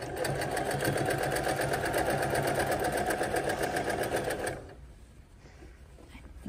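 Fabric feeds through a sewing machine in one loud, continuous close-up run of rapid stitching that stops abruptly near the end, leaving quiet room noise.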